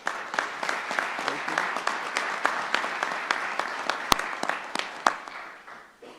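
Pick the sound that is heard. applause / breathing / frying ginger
applause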